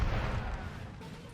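Artillery fire booms out in a Napoleon: Total War battle, a dense low rumble of cannon shots rolling together, loud and steady with no voices over it.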